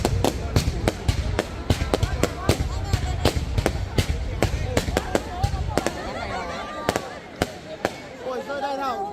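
Rapid cracks and bangs from New Year's Eve fireworks at Mỹ Hào keep going in a dense irregular barrage, loud and fairly close, with people talking and calling out underneath.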